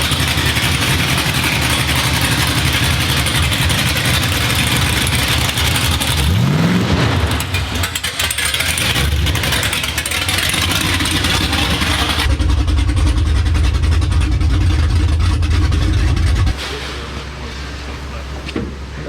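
A big LS V8 engine in a pickup shop truck rumbling loudly at idle with a rev that rises and falls, then settling into a deep steady idle, a voice faintly underneath.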